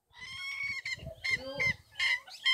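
Roosters crow in loud, harmonic bursts, honking and crowing cries overlapping one another close by, with low scuffling noise underneath.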